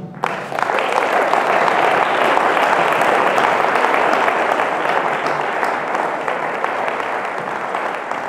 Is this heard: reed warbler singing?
no